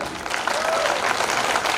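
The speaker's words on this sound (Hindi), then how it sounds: "एक बार आप अपनी तालियां दे दें मुझे" Dense, steady applause from an audience at a poetry event in Vidisha, India, many hands clapping continuously at close range.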